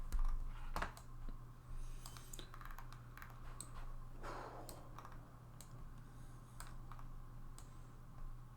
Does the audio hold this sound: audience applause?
no